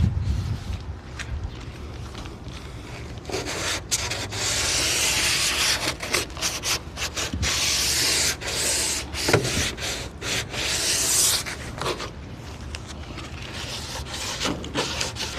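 Sanding original factory paint off the hood of a WK1 Jeep Grand Cherokee, a continuous close abrasive rubbing hiss with rhythmic back-and-forth strokes and brief pauses, no talking.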